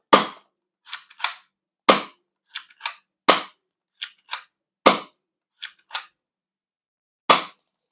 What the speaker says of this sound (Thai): ห้านัดนะครับสำหรับ G15 นะครับ ชักยิงทีละนัดนะครับ